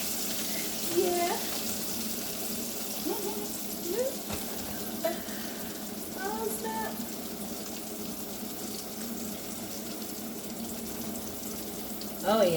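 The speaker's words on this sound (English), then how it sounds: "It's starting to look a little not frying as hard now." Pickles fry in hot grease with a steady broadband sizzle and crackle that keeps going under a few brief spoken exclamations.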